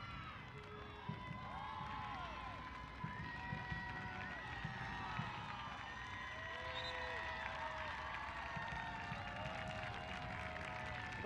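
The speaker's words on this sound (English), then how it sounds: "The fans are cheering." Soccer fans cheer in a stadium during a Northern Super League match between Calgary Wild FC and AFC Toronto, a broad, distant roar with scattered whistles and shouts that swells steadily under a commentator's talk.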